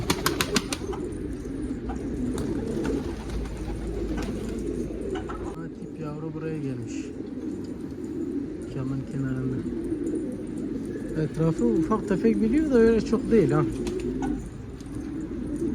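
Low, throaty cooing of pigeons runs throughout, with occasional wing flutters, while people talk nearby over the birds.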